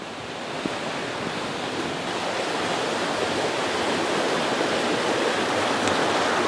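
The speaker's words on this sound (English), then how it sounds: "here you can tell how the water's rushing past here" A stream at Roadwater on Exmoor rushes past close by, a steady dense wash of flowing water that holds at an even level throughout, with no voices over it.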